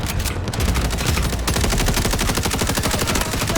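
Submachine gun fire in the Delta Force video game: a loud, rapid, continuous burst of evenly spaced shots running for several seconds, close and dominant.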